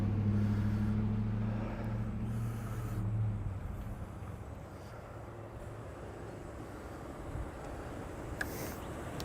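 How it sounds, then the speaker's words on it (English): Trucks, including a big old Chevy, roll past on a street in Provincetown, a low engine rumble loudest at first and then fading into a softer steady traffic hum. "I'll pause and let these trucks by."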